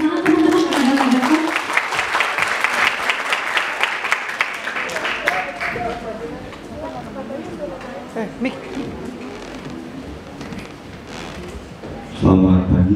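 Seminar audience on public speaking claps for the presenter, dense applause at first that thins and fades into scattered claps and room noise, with a loud burst near the end.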